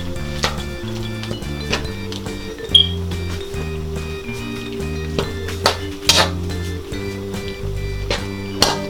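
Corned beef with paprika and annatto powder is stirred in a pan, with soft scraping and occasional utensil clicks against the metal over a faint sizzle, while steady background music plays beneath.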